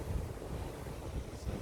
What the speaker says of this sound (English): So wait for a couple of big waves to come in.